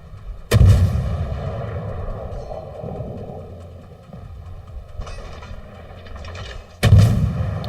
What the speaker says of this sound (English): What you do is when you see a ship, you fire one shot out.